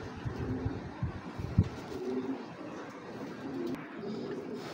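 A pair of Belgian red checker racing pigeons coo softly and repeatedly in low, throaty rounds. The calls are quiet and close, over faint background noise, with no voices.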